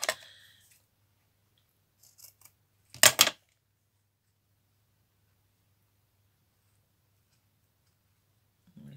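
Scissors snipping off a small piece of rope while making homemade Christmas baubles, a few crisp close cuts with one louder double snip in the middle, surrounded by near silence.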